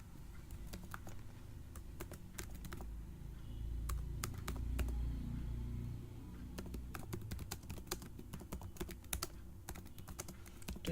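Typing on a computer keyboard: irregular close clicks and patter of keystrokes, faint against a low room hum, continuing in short bursts with brief pauses.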